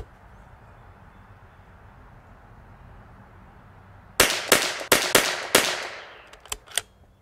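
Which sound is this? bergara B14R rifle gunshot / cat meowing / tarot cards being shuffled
bergara B14R rifle gunshot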